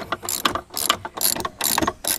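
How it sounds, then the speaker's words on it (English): A ratchet wrench loosens bolts on a bass boat jack plate, giving close, rhythmic bursts of rapid clicking in repeated strokes with brief pauses between them. "And we're gonna loosen all these bolts."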